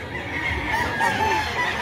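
Gamefowl roosters in Cebu, including white-legged birds, crowing and clucking in a steady overlapping chorus, drawn-out crows standing out over busy ambient noise.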